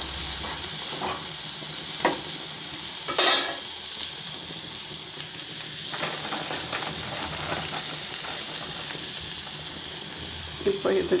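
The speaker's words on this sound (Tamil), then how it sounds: "பின்ன மிளகு, சீரகம், இதெல்லாம் கொஞ்சம் வதங்கட்டும்." Black pepper and cumin sautéing in a pan with curry leaves, onion, tomato and garlic, a constant close sizzle broken by a few sharp spoon scrapes and stirring clatters, with no speech.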